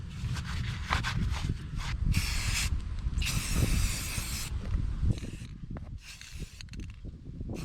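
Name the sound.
Rust-Oleum spray paint on rusted trailer stabilizers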